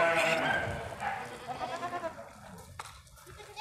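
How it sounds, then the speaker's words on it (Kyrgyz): Boer goats, a meat breed newly brought to a farm in Kyrgyzstan, bleat in several nearby calls, strongest at the start, while someone talks over them. "Мына ушул эчкилер экен."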